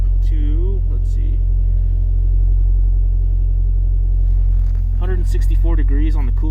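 A warmed-up Toyota MR2 engine idles steadily at around 164 degrees coolant temperature on a cold day near 30 degrees Fahrenheit, a constant low rumble running beneath someone talking at the start and end.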